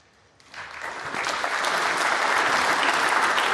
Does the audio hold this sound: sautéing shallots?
no